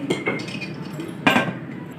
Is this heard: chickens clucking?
no